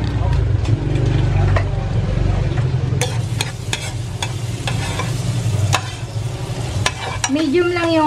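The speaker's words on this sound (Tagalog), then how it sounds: "Ayan yung pagigisa natin sa ating chaopan." Margarine sautéing in a wok (chaopan) over a medium flame, with a steady close sizzle, scraping stir strokes and clanks throughout. A voice speaks briefly over it.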